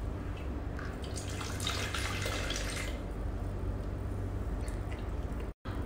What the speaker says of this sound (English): Now we inject water.